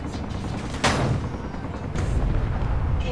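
Rockets fire and strike in Space Engineers, sharp booming blasts with rumbling impacts, one prominent hit about a second in and another heavier burst near the two-second mark, loud and continuous.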